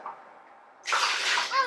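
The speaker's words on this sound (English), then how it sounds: "I pour water in here," Water pours into a container in a tabletop science trick demonstration, a brief broadband splashing rush starting partway through after a quiet moment, fairly close and loud with no talking.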